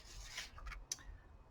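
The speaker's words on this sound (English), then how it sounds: "how much skill you have in cutting out shapes with scissors" Scissors snip and rub through paper while cutting out simple shapes for a kids' sunset craft, several quiet, close, brief scraping cuts at an uneven pace.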